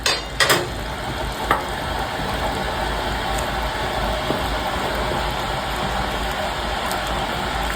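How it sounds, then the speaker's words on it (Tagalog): Onion, garlic and tomato paste sautéing in a pan, giving a steady, close sizzle throughout, with a few sharp clinks from a utensil near the start and no talking. "Nagisa na tayo ng sibuyas, bawang, and then sinunod na natin dyan yung tomato paste."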